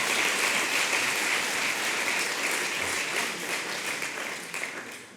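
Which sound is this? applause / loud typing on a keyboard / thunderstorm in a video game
applause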